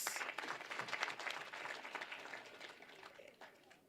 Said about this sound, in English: Can we kindly give her another round of applause?